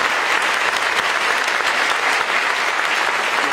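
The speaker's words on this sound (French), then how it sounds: "Une belle applaudissement pour notre conférencière" Loud, dense applause from a conference audience for someone speaker on video game UX, a steady uninterrupted roar of clapping hands with no talk over it.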